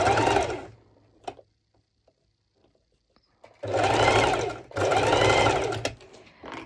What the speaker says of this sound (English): this basting stitch is literally just to hold my lycra and my lining in place